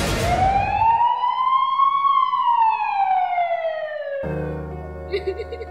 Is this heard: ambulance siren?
yes